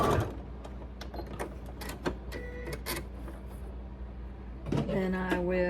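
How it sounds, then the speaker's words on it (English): A domestic sewing machine runs close and steady as it stitches a diagonal seam joining strips of quilt binding, with a few clicks and a voice speaking near the end. "Then I'm going to take them right sides together and join them just like we did the other strips of binding, and sew that diagonal seam across them"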